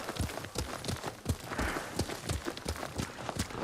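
Horse hooves clip-clop at a steady running gait while riding in the samurai action video game Ghost of Tsushima, a rhythmic series of close, punchy thumps over a dense bed of game ambience.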